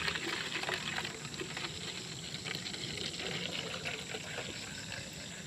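Collected liquid, gathered to be made into vinegar, is poured from one container into another, giving a steady, close splashing and trickling wash that runs throughout with no voices.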